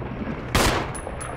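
One sharp, loud gunshot from the Resident Evil HD Remaster game bursts out over steady background game noise, brief and close.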